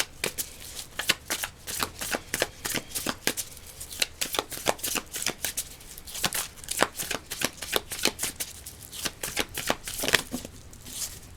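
Tarot cards being shuffled for a reading: a close run of repeated crisp riffling bursts in an uneven rhythm, continuing throughout with no voice.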